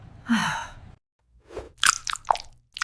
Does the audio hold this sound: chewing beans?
yes